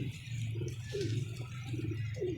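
A pigeon held in the hand gives several soft, low coos in a short repeating rhythm, close and quiet, with no talking.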